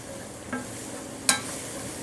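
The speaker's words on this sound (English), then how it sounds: "this sausage, you see how this is starting to saute like this?" Chicken sausage sautéing in a pan with a faint steady sizzle, broken by two brief clicks or scrapes of a utensil, the second sharper and louder.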